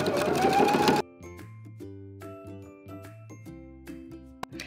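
A sewing machine top stitches along the edge of an apron's fabric, running in a loud one-second burst at the start. Short, quieter start-and-stop runs of whirring follow, separated by brief pauses.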